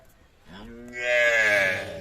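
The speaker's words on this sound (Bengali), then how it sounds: "এটা হচ্ছে প্রথম নাম্বার গাভীটা" A dairy cow lets out one long, close moo that rises and swells in the middle, heard alone with no talk.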